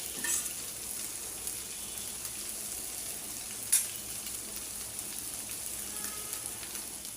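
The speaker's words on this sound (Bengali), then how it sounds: "শুধু তেলের মধ্যে মাছগুলো ভাজছি" Two kinds of fish fry in a pan of hot oil, a steady, soft sizzle and crackle throughout with an occasional sharper pop, no voices.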